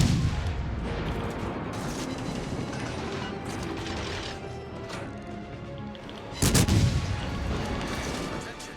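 Warship guns firing in the video game World of Warships Legends on PS4: a dense, rumbling barrage throughout, with a sharper, louder blast near the end and faint voices in the background.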